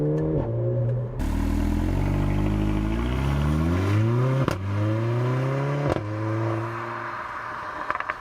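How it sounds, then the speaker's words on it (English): Mercedes A45 AMG hot hatch engine revving hard through rising gears, with sharp exhaust pops cracking on each downshift, loud and close with no talk. "you get that lovely little pop on the downshift"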